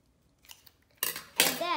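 Scissors snip through paper while making a helicopter whirligig, a few soft crisp cuts close by, with a voice briefly heard.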